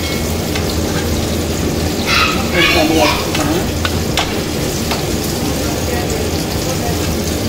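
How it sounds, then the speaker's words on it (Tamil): Chicken pieces frying in hot oil for biryani give a loud, steady sizzle with crackling pops and a few stirring scrapes partway through. "இப்போ மீதி சிக்கனையும் நம்ம பொரிச்சு எடுத்துக்குவோம்."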